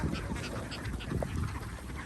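A flock of egg-laying ducks at a farm quacks faintly at a distance, a soft, continuous jumble of calls with no talking.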